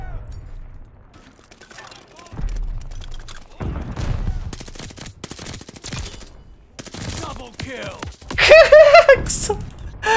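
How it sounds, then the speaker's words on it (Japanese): Bursts of automatic gunfire from a 50-round drum-magazine gun in Call of Duty Vanguard, loud rapid volleys with pauses, plus game mechanism clicks and a player talking. "つえマジ50発のドラムマガジンの強さが半端ねえ"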